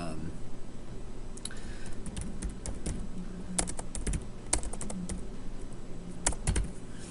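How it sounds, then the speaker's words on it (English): Rapid typing on a computer keyboard while entering text into a website builder, steady clusters of light clicking keystrokes over a constant background hum, close and moderately loud. "let me just type in"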